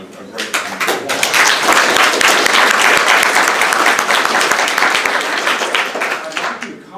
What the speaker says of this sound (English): I think we all owe him a great round of applause